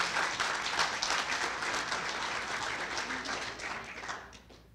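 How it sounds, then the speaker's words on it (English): Sustained audience applause at the Red and Gray Gridiron Lifetime Achievement Award ceremony, a dense wash of many hands clapping at steady loudness that tapers slightly near the end. "Let's clap it up."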